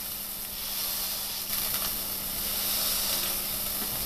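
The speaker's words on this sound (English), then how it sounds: "make sure your pan is nice and hot before you start to fry your patties" Sausage patties frying in a hot pan give a steady, loud sizzle and hiss throughout, close up, with small crackling spits and no talk.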